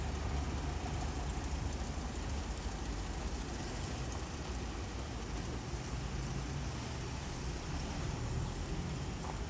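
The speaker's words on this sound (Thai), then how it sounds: "ขบวนนี้จะแยกทางด้านซ้ายนะครับ เพื่อเข้าจอดที่ สถานีบ้านโป่งนะครับ" Hitachi 4505 diesel train 255 pulls into Ban Pong station in Thailand with a steady engine drone and rolling rumble that stays constant and moderately loud, with no speech.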